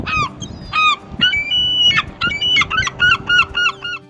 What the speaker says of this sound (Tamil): யூரோப்பியன் ஹெரிங்கள்.